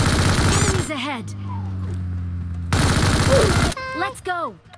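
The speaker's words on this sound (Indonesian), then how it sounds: "Ada tembakan di atas sana." Automatic gunfire in the PUBG Mobile video game rattles in two loud bursts, each about a second long, separated by quieter game sounds and tonal effects.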